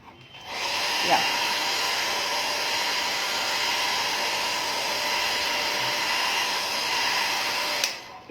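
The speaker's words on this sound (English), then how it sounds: "I am drying it with a hair dryer." A hair dryer blowing on a craft piece gives a loud, steady, close whir that runs almost the whole time after switching on, then briefly shifts near the end.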